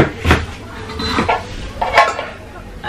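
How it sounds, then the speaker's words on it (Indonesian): The steamer insert of a Miyako MCM-508 1.8-litre rice cooker is handled, giving a few sharp clanks and rattles of light metal or plastic in short bursts, close by, with a voice talking softly between them. "ini ada steamernya untuk mengukus"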